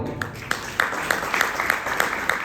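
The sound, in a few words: audience clapping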